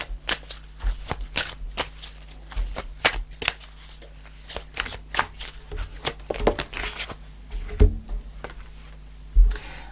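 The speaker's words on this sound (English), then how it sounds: "I'm going to pull a final card to finish off the reading" Tarot cards being shuffled by hand, a dense run of crisp riffling flicks and soft slaps close up, with occasional louder taps as the deck is squared, no voices over it.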